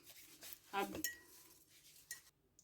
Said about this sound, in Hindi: आपने जो है ना मसाला अच्छी तरह मिक्स करना है